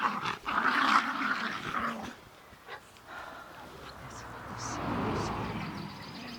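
A miniature pinscher growls low and rumbling up close in a garden, in a few uneven bursts, with quieter stretches between.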